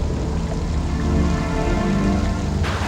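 Steady rain falls in stormy night weather on a deserted road, a dense, even patter that fills the whole stretch with no voices.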